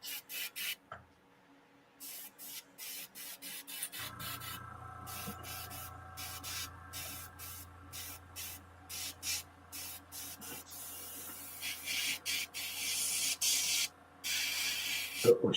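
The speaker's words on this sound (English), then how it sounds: "Oh, somebody's airbrushing." An airbrush sprays paint in repeated short hissing bursts, starting sparse and growing louder and more frequent, with a low steady compressor hum running underneath from about four seconds on.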